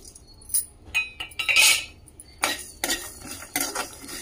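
Whole cumin and coriander seeds drop into a pan while cooking a spiced brinjal curry, giving short clinks and scrapes of a utensil against metal, with a brighter rattling burst midway and soft stirring after, fairly close and with no talk.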